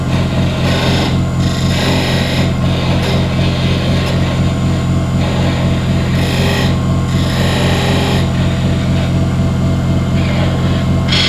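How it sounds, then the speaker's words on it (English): Wood lathe running at speed while a wooden kendama is worked, a loud continuous motor hum with rasping, rubbing bursts layered on top, no talk. "Turn the lathe speed back up."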